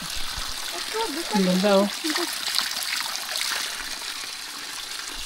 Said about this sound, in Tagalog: Malinis yan. Bukal yan.